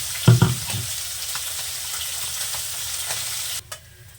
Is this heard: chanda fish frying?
yes